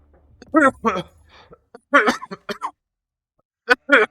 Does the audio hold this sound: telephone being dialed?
no